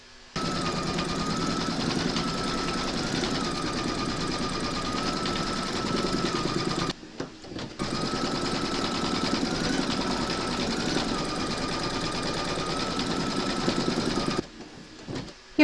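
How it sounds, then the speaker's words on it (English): An embroidery machine stitches the bone details of a large skeleton applique. It makes a steady, close mechanical whirr, broken by two short pauses, with no talking. "Making sure that you've got your thread colour loaded into your machine for the bone details, you're now going to stitch round number four."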